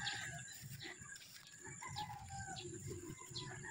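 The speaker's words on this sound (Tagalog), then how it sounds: "May nagtitilaok pang manok." A rooster crows in the distance over a steady outdoor farm background, with faint clucking and birdsong around it.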